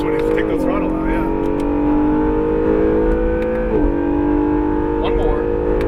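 Acura NSX sports car engine accelerating on a race track, a steady rising engine drone heard from inside the car, with people talking over it.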